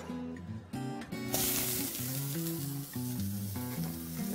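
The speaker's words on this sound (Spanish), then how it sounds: "Que se vaya guisando nuestra cebollita" Onion sautéing in two spoonfuls of oil in a frying pan, a loud continuous sizzle that swells partway through, with tonal background music playing underneath.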